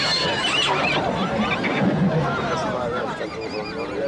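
Free-roaming horses neighing across the open hills of Galicia, loud, close whinnies overlapping one another for several seconds, with a steady outdoor hiss behind them.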